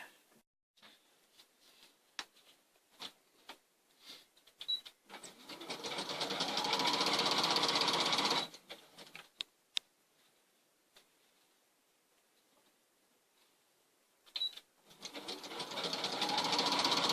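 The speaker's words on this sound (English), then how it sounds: "I'm going to get all the back sewed up." Sewing machine stitching the back of a guitar quilt, running in two sustained bursts of steady mechanical whirring, the first about three and a half seconds long and the second a few seconds later, with scattered clicks and handling noises in between.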